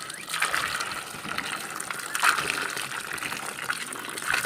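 Water runs continuously from a tap while mangoes are washed, a close, steady gush with a few splashes and no talk.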